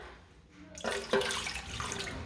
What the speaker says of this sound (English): So we're going to start with our 1 cup of water.